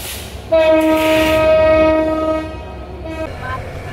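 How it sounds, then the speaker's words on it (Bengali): An intercity express train's horn blares a long steady tone over rumbling wheels and engine noise, close by, as it departs Kamalapur railway station in Dhaka, then cuts off as the rolling sound continues. "ঢাকার কমলাপুর রেলওয়ে স্টেশন থেকে ছেড়ে গেল কক্সবাজারগামী আন্তনগর পর্যটক এক্সপ্রেস"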